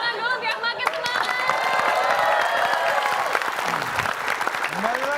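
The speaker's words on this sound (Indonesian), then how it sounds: "Kita tepuk tangan dulu biar makin semangat." Studio audience applause during an Indonesian quiz show, steady dense clapping throughout with overlapping voices and cheers mixed in.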